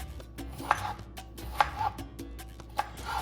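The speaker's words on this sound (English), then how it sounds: "Cut up the tomato, doesn't have to be fine slices." A knife cuts up a tomato on a cutting board for a refried bean burrito bowl, landing three evenly spaced, fairly crisp chops over a low background hum.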